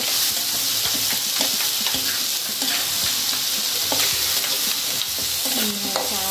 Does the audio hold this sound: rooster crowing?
no